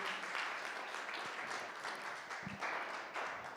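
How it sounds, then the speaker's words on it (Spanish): Applause from a church congregation fills a worship service, a steady broadband wash of many hands clapping, moderately loud and sustained with no voices standing out. "Dale un aplauso al Rey."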